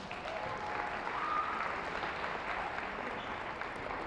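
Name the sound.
applause for basketball all-conference team players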